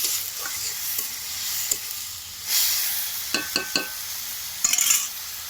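Radish greens and potato fry in a pan with a steady, fairly quiet sizzle, broken by a few sharp scrapes and taps as a utensil stirs them.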